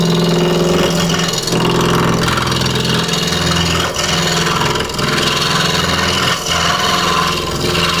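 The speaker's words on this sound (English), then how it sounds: "So I'm going to turn this with a roughing gouge." Bagpipe chanter blank spinning on a wood lathe and roughed down with a roughing gouge, a loud continuous whir and hum with steady scraping of the tool on the wood and brief dips as the cut eases.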